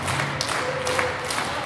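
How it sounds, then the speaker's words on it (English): A wrestling crowd at a live show claps hands steadily, a dense wash of applause with a few sharper thuds, faint talk mixed in underneath. "Come on, everyone. Clap your hands on both men."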